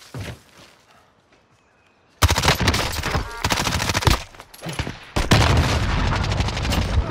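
Bursts of gunfire crack out in quick volleys, one dense stretch of rapid shots followed by a pause and another sustained burst, loud and close after a quieter opening.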